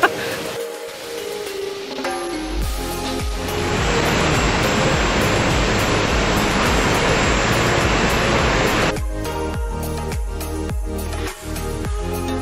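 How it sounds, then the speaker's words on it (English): A waterfall in Sikkim roars as a dense, steady rush of falling water that swells loud and fills the middle of the stretch, with quieter rumbling and scattered knocks before and after. "we are almost near the waterfall"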